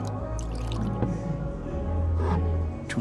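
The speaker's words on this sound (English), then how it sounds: "Can I pour you a glass?" Liquid poured into a glass in the video game Life Is Strange: True Colors, a steady close trickle and splash lasting a few seconds with low background hum and a brief clink near the end, no speech.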